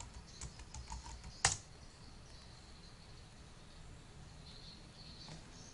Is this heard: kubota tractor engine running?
no